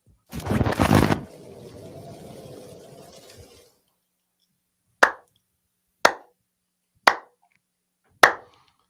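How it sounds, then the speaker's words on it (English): A slow clap of four separate hand claps about a second apart, crisp and close, following a brief noisy burst and a low sustained hum that fade to silence. "Slow clap for."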